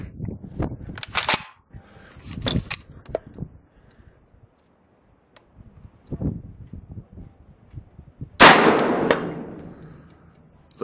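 Saiga 5.45x39 rifle fired at a target 160 yards out: three sharp, loud shots spaced about a second apart, a pause with faint low rustling, then a final shot that trails off into a long ringing decay.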